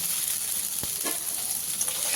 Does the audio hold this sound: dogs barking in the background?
no